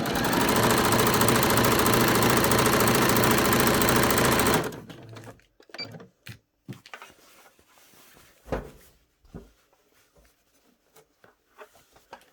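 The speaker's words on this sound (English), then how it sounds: "we're going to slip that under the machine and we're going to sew that down" A sewing machine stitches down a skirt hem, running loud and steady in one continuous burst before stopping, followed by quieter scattered handling clicks and fabric rustles.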